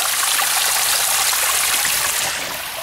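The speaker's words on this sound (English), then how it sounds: "we got a mini waterfall" A small waterfall in hot, dry woods rushes in a steady, close, full wash of falling water that eases slightly toward the end, with no voices.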